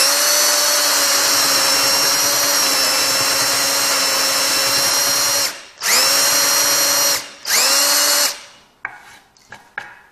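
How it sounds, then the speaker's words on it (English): A loud, close power drill whines steadily, then stops and restarts in short bursts before spinning down, followed by a few faint knocks. "I'm going to start drilling right up to that line"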